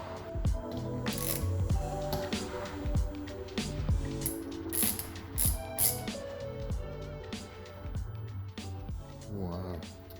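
Harbor Freight Icon and Pittsburgh ratchets click close up in repeated quick bursts of ratcheting, with brief pauses between runs of clicks.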